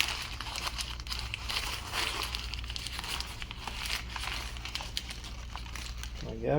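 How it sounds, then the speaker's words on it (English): Sheet of paper being crinkled and crumpled up by hand for spray-painting a planet design, a steady close rustling and crackling that runs throughout without a break. "I'm going to really crinkle the paper up on this one."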